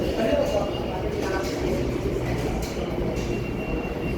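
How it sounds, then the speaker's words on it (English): Loud, steady rumble of a New York subway train heading to Flatbush, heard from inside the moving car, with a continuous roar, faint rail clatter and a brief high squeal under it. "Gotta get on this train."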